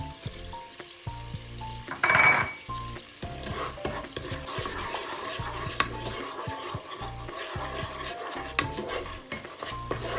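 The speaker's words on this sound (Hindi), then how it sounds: "बस 1-2 मिनट इसको पकाना है ताकि चीनी अच्छी तरह मिक्स हो जाए।" Sugar cooking with ghee and a pinch of orange colouring is stirred in a pan, with a spoon scraping and clinking rhythmically over a soft sizzle close by and no speech.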